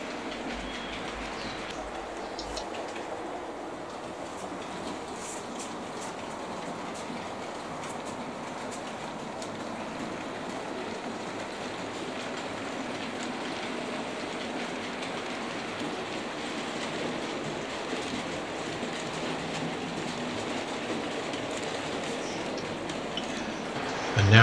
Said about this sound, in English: The loco will then reverse into the cassette siding and collect its assignment for today